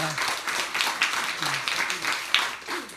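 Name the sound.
church congregation applauding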